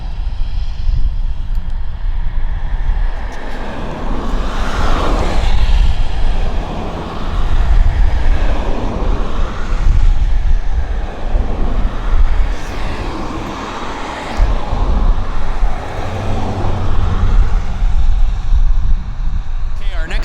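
Heavy USAF aircraft taxiing at Abbotsford airport, a loud continuous engine roar and whine that swells and shifts as it rolls past, with a voice talking over it.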